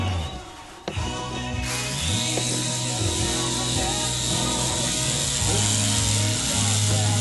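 An Air Hogs toy RC helicopter flying indoors gives a continuous buzzing motor whine whose pitch rises and falls as the power changes, steady and fairly close for several seconds.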